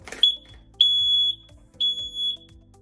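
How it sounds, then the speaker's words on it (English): A Whisper Pumps water level alarm panel sounding, three loud piercing electronic beeps, each about half a second long and evenly spaced, close up and alone. "So the alarm is sounding."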